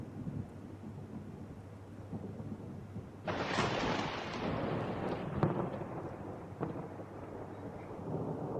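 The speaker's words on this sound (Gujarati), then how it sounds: "વરસાદ વરસી રહ્યો છે" Monsoon storm rain falls over Ahmedabad, a faint background hiss that suddenly swells into a steady, dense roar partway through and continues to the end, with no voices.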